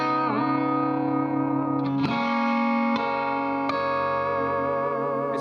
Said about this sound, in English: I can get extra sustain and extra dynamics from the guitar with the compressor pedal.